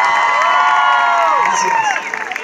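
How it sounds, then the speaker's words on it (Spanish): Audience cheering and applause for the musicians after the saxophone and trumpet players are introduced at a live concert, a loud continuous crowd roar with whoops and shouts that thins slightly toward the end. "Que se oiga el aplauso para los muchachos, por favor."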